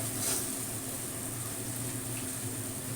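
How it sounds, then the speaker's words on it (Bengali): Hot water pours steadily into a pot of pre-soaked rice with cashews and raisins, giving a continuous close rushing hiss without a break. "এখানে 1 কাপ চাল নিয়েছি, তাই আমি 2 কাপ গরম জল দেবো।"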